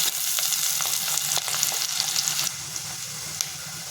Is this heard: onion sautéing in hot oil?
yes